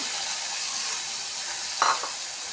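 Tomatoes go into a mustard seed tempering in hot oil and fry with a steady, close sizzling hiss, with a brief stirring scrape near the end.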